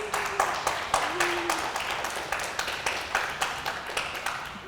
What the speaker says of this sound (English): give a big round of applause for Sarah Gorak.